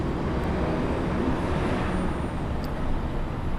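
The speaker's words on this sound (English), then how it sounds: "That bus is going to be loud." A city bus rumbles past a press conference on courthouse steps outside in Chatham County, a loud steady roar of engine and road noise filling the whole stretch with no talking.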